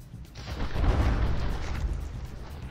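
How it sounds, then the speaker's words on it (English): A warship fires an artillery volley in the From the Depths naval combat game, a single deep booming blast that swells and then rumbles on with a fairly muffled tail. "Otsarva getting its first volley away much quicker than the Accursed."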